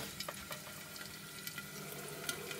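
Wood ear mushrooms cooking in a pan, a faint steady sizzle with scattered small pops and spits, no voices heard.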